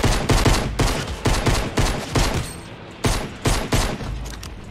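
Rapid bursts of gunfire from a Fortnite battle royale match, repeated volleys close and loud with brief gaps between them, no talking.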